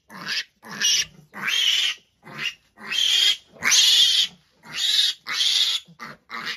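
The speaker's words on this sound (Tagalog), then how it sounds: "Ito po ang ating biik guys." Fourteen-day-old piglets on a farm squeal loudly and repeatedly in sharp bursts, up close, with brief gaps between the cries and no one talking.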